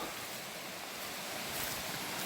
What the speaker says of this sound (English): So there's a bit of a waterfall here.